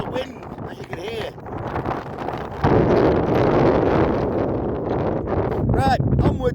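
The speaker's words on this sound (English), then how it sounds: "we've got some disruption on the ferry due to the wind, as you can hear" Strong wind blows on an island coast, roaring and buffeting the microphone loudly and steadily, while a person talks through the gusts.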